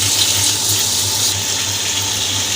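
Water pours in a steady gushing stream into a pot of chicken with yogurt and spices, loud and close for a couple of seconds.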